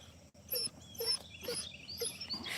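A dog whimpers in a series of high, thin whines, four or five short cries spaced evenly, close and fairly quiet, with no talking over them.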